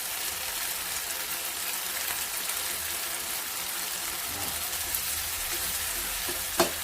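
Canned fish stir-frying in a pan with seasoning powder, a constant close hiss of sizzling oil with faint stirring scrapes and a sharp clink near the end.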